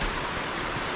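Steady pouring rain falling outdoors around a hot tub at a woodland cabin, a dense, even hiss of drops close by with no pauses and no voices.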